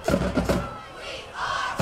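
At a high school football game, cheerleaders and a crowd cheer and shout in loud bursts, with brief pauses between waves of voices.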